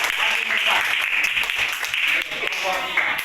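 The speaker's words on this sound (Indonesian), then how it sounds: "Beri tepuk tangan untuk kelompok 3." A classroom of students applauds a student group about to present, with dense steady clapping lasting throughout while a voice speaks over it.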